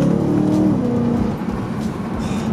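A BMW E92 M3 V8 engine revs up through a gear shift, a loud, close mechanical roar that dips briefly as the gear changes, then continues at a slightly lower level.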